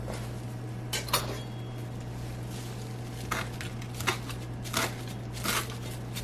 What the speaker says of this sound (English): now that my corn is cut up, I'm going to come with my cilantro. And we're going to chop this up